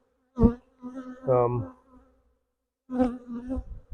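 Honeybees in a hive box holding five or six frames give close, loud buzzing in short uneven bursts separated by brief silences.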